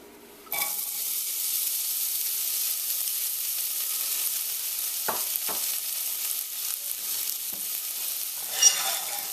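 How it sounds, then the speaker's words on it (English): Garlic, onion and scallions dropped into a hot pot for Jamaican rice and peas, a sudden sizzle bursting in and holding as a steady hiss, with a few stirring scrapes and a louder rustle near the end. "we're going to be adding the garlic, the onion, as well as the scallions or spring onions"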